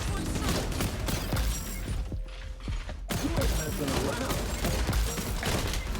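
Rapid MK 20 SSR gunfire in a shooter video game, dense cracking shots packed close together across most of the stretch, pausing briefly near the middle before resuming, with voices talking over it.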